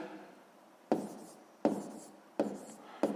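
A pen writing numbers on paper during a long-division exercise: four distinct scratchy strokes, each starting with a sharp onset and fading away, close and quiet, with no talking.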